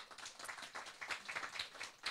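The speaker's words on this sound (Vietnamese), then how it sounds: "Hãy cho các anh chị một tràng pháo tay đi ạ" Audience applause at a Nu Skin business briefing in Da Nang, a steady patter of many hands clapping, fairly faint and distant, lasting throughout with no voices over it.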